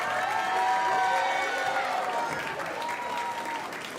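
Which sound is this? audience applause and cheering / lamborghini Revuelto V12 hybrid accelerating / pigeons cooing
audience applause and cheering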